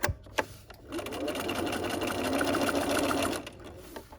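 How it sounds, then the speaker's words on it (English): A sewing machine stitches across the handle of a dog leash: a few close clicks, then a steady, loud run of stitching lasting about three seconds before it stops, with no talking. "I'm going to sew across the bottom here to get to the other corner"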